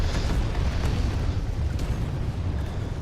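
Artillery barrages in the Planetside 2 video game, deep rumbling booms that roll into one another with a dense, continuous low-end thunder and no pause between blasts.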